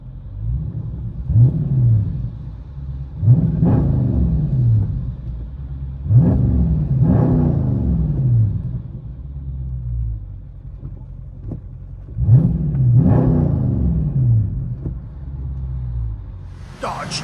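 A 2022 Dodge Charger SRT with a 6.4L HEMI V8 and mid-muffler delete exhaust revs up close and loud in four or five sharp bursts, each climbing and then dropping back to a deep, rumbling idle.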